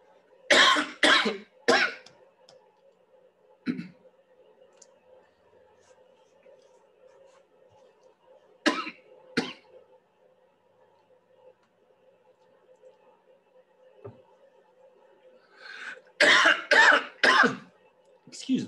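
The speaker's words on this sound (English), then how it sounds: "Excuse the cough." A person coughing and clearing the throat during a talk on human evolution, with short loud bursts in clusters at the start, a couple in the middle and a final cluster at the end, separated by quiet room tone.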